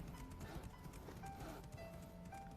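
Horses walking in the video game Crimson Sea, a steady run of soft clip-clop hoofbeats over quiet game ambience with faint tonal cues.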